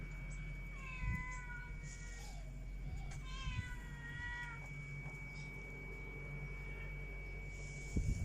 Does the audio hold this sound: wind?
no